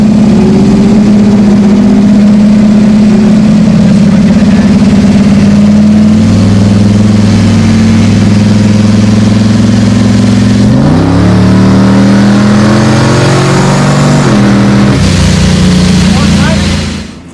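A loud truck engine idles then revs up and down repeatedly, with deep rumbling pitch changes close to the listener before cutting off.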